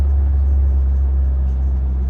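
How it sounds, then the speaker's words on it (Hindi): A truck's engine brake, switched on while the truck descends a steep, dangerous grade on a Gulf-country road, gives a steady, deep, close-up rumble that holds evenly for the whole stretch, with no voices. "मैंने भी स्टॉपर गाड़ी का ऑन कर दिया है"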